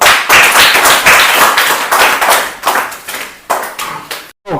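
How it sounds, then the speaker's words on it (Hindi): A class of children claps in quick group bursts. The loud, busy clapping thins into a few separate, fading rounds of claps, then stops in a brief silence. "ताली बजाओ।"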